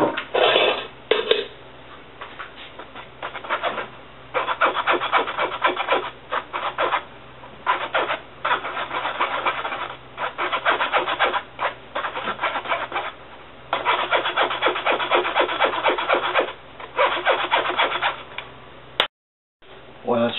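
Eggs, almond flour and powdered sugar being sifted for a passion fruit velvet cake, a close rhythmic scratchy rubbing in repeated bursts with short pauses.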